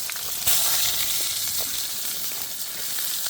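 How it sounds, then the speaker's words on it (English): Seasoned steak sizzles on an outback grill, a steady close crackling fry that holds at an even level throughout with no talking. "Look at that sizzle away."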